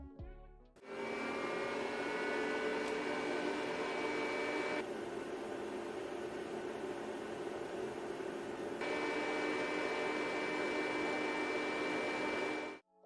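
An EcoFlow River 2 portable power station's cooling fan whirs steadily and evenly with a faint tonal hum, unbroken and fairly close, with a slight shift in volume and tone partway through, then stops.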